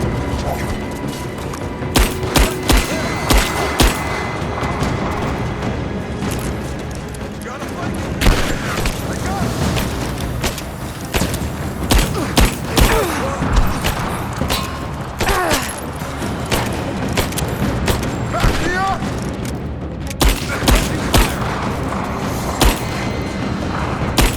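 Rise of the Tomb Raider combat: dense bursts of gunfire and booming explosions pile up continuously, loud and close, while shouted voices call out over the battle.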